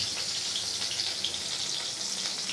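Finely chopped green chilli and garlic sizzle in hot oil as a tempering, a soft steady crackling hiss held close and even throughout with no speech.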